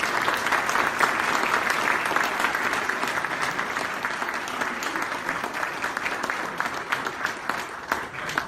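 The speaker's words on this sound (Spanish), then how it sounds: "lo recibimos con un fuerte aplauso." Sustained audience applause, dense and steady clapping from a crowd throughout, with no speech over it.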